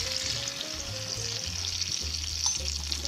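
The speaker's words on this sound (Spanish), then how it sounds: "que se cocine el pollo y las verduras a flama baja" Chicken and vegetables simmer in orange juice over a low flame, a steady soft sizzle and bubbling that runs throughout, moderately close, with no talking.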